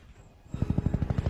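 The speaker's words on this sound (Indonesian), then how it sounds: "Jack datang dengan mengendari heli." An animated helicopter arrives in a Transformers cartoon, its rotor starting abruptly and thudding in a rapid, steady, loud rhythm after a brief hum.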